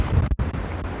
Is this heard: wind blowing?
yes